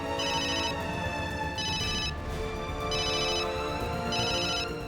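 A phone ringtone plays in four repeated bursts of bright tones over a continuous musical background, steady and fairly close.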